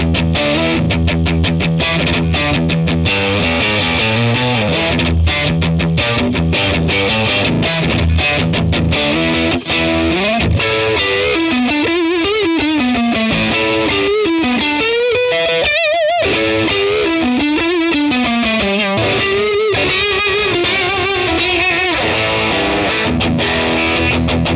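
Electric guitar played through a 1966 Fender Blackface Bassman with a tube screamer pedal in front, reverb off, on the neck pickup: loud, continuous overdriven chords and lead lines with sustained bends, no talking.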